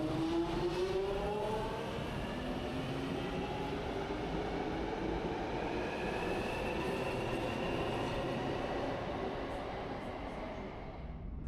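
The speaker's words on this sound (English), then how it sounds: "I departed aboard 868 from the former Eurostar platforms." A South Western Railway train unit pulls out of the former Eurostar platforms at Waterloo, a continuous loud rumble of wheels and motor with rising whining tones, close by and steady throughout.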